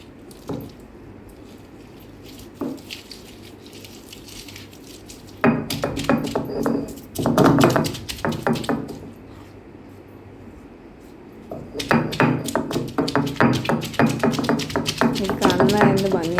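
Ingredients crushed on a traditional grinding stone, rhythmic pounding and grinding strokes in two close, busy bursts separated by a quieter stretch, with some faint background noise.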